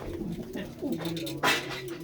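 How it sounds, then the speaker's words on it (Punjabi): Fine-breed pigeons kept at Mullanpur Kalan near Mandi Gobindgarh give soft, throaty coos close by, a few rolling calls in quick succession, with someone talking faintly underneath. "ਬਹੁਤ ਹੀ ਸੋਹਣੀ ਸੋਹਣੀ ਨਸਲ ਦੀਆਂ ਕਬੂਤਰੀਆਂ ਨੇ ਬਾਈ ਹੁਣਾਂ ਦੇ ਕੋਲ"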